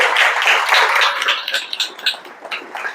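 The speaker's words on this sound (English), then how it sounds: "Please give them a round of applause." Audience at a tech meetup in a university building claps in a loose, uneven patter, with scattered individual hand claps fading in and out close by.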